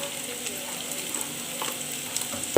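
Ingredients for a beef pickle sauté in a pan, a soft continuous sizzle with light stirring scrapes and a few clicks, no voices.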